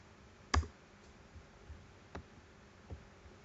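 A computer mouse clicks once sharply and close, followed by a few fainter clicks spaced out in a quiet room.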